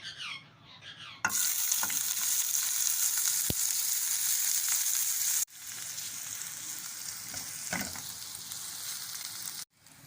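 Onions frying in about three tablespoons of oil in a pan, a steady loud sizzle that jumps in as they hit the oil, with occasional stirring scrapes and a brief pause near the end.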